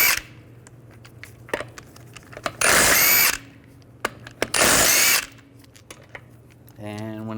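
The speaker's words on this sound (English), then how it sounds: "I'm going to remove the front wheels using a 17mm socket. Take the lug nuts off." An impact-style power tool with a 17mm socket spins lug nuts off a Volkswagen Beetle wheel in two loud, sustained whirring bursts. Sharp clicks and clanks come between the bursts, a voice speaks in the gaps, and a brief high whine sounds at the end.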